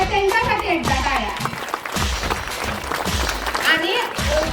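Audience clapping at a Marathi jubilee celebration and Paithani game event, a steady dense wash of applause lasting throughout, mixed with crowd voices and music-like tones.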